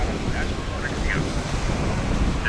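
Sea surf washing onto a shore on a windy coast, a steady broadband rush with wind buffeting the microphone and a faint voice underneath.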